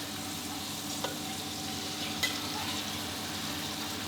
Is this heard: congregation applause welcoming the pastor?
no